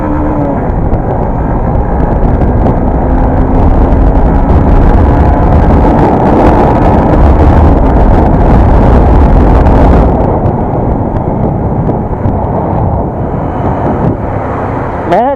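A Honda SP125 BS6 motorcycle fitted with an iridium spark plug, ridden up through four gears, gives a loud, steady engine and wind roar that runs continuously and close.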